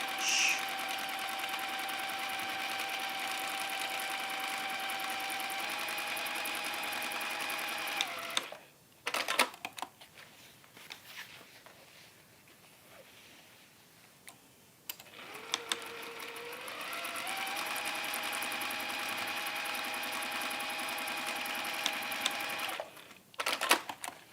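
A sewing machine runs a scant quarter-inch seam on a glasses case: a steady, fairly quiet whirring hum for about eight seconds, a pause with faint handling sounds, then another long even run.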